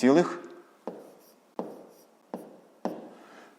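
A pen taps and scratches on paper while numbers are written by hand, four or five distinct short strokes at an even pace following a brief burst of speech, close and quiet.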